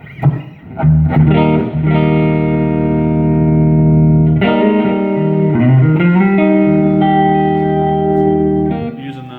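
Electric guitar chords through a Fender Hot Rod DeVille tube amp with reverb set on 3 ring out clean and sustained with warm amp tone, each strum decaying slowly before the next.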